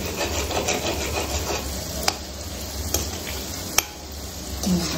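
Gulab jamun fry in hot oil with a steady, close sizzle and bubbling, broken by a few sharp clicks.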